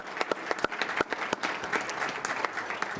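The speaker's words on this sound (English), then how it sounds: "So to the both of our Dannys," Audience applause at the UVU Awards of Excellence 2014 ceremony, a steady wash of many hands clapping with sharp individual claps standing out, fairly close and continuous throughout.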